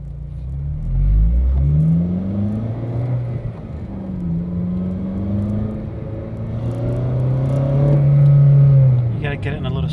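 A Honda Civic Si fitted with an AfDynamic intake runs at part throttle, giving a close, steady engine drone with low tones that rise and fall smoothly as the revs shift and swell louder near the end.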